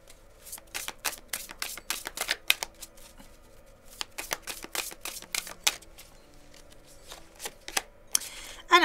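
Tarot cards being shuffled and handled in quick, close bursts of crisp riffling and snapping, spread through the whole stretch with short pauses in between.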